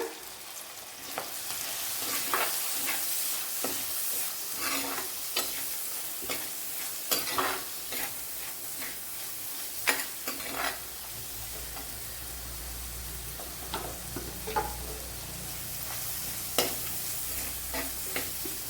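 Onions with salt and black pepper powder sizzle and fry in a pan while a spoon scrapes and stirs them in repeated strokes, close and steady, for a Kerala-style horse mackerel fish curry base.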